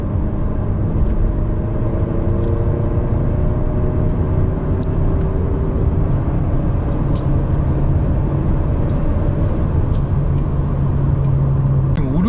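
A Hyundai Santa Fe TM with a 235-horsepower gasoline turbo engine pulls hard up a slope, its steady loud engine and road roar filling the cabin without a break, with tire noise close beneath.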